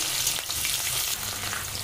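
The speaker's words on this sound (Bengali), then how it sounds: "পেঁয়াজটা একটু ভাজা ভাজা করে নেব।" Onions fry in hot oil in a pan, a continuous close sizzle with light scraping from stirring, no talking.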